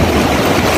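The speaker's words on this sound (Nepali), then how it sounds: "क्या दामी छाल आउँदो रहेछ" Red Sea waves wash against the shore at the Jeddah corniche in Saudi Arabia, a brief, steady, close rush of water.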